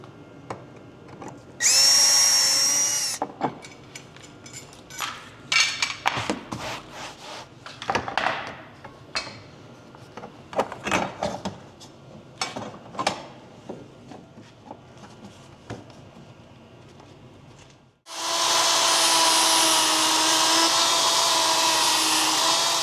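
Power drill driving flathead screws while a light bar is installed on a Sprinter 4x4, with a short whirring burst, then knocks and scraping handling noises, and a longer loud drill run at the end.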